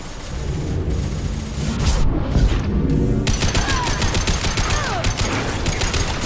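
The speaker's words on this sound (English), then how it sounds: "Taking fire." Mass Effect 2 Legendary Edition firefight on PC: dense, continuous volleys of gunfire and booming impacts, loud and close, with rapid overlapping shots throughout and no pause.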